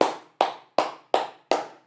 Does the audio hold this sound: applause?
yes